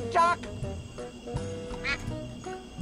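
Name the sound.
duck quacking in the video game Escape from Monkey Island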